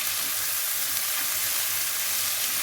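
Carrots and beans frying in a pan for rava upma, a dense, continuous sizzle with a faint stirring undertone, close and steady without pause.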